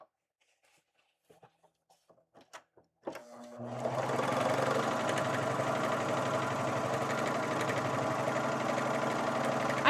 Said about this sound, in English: I'm going to serge this strip